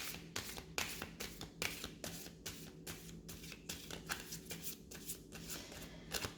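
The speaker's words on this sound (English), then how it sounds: "So first I'm going to clear the cards." A deck of tarot cards is shuffled by hand, giving a quick series of crisp riffling and slapping bursts in a close, steady rhythm that continues throughout.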